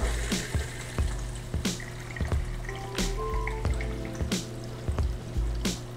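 Water from an overhead shower filter on a goldfish aquarium, irregular drips and splashes falling into the tank over a low steady trickle, close and moderately loud, with no talk.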